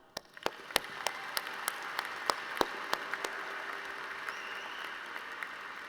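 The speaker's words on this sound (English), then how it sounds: "let's have one more round of applause for your loved ones" An audience at the 2017 Wharton undergraduate graduation ceremony applauds in a sustained wash of clapping, with individual sharp claps standing out near the listener throughout.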